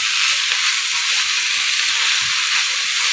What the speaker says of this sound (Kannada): ಅದು ಈ ಥರ ಬಾಡಿಸ್ಬೇಕು